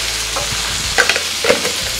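Potatoes are tipped into a hot pan and stirred, giving a soft continuous sizzle of frying with a couple of scraping clinks of the spoon, close by and with no voices.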